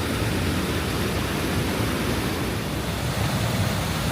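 A Michigan waterfall gives off a steady, dense rushing roar that stays loud and even throughout, with no voices.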